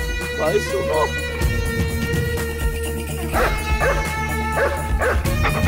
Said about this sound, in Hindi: अरे कुत्ता क्यों भौंक रहा है?